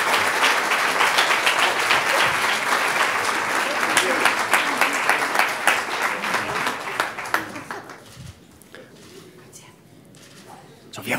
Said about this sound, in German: Jetzt kriegt ihr erstmal einen kräftigen Applaus, würde ich sagen, für Platz 2.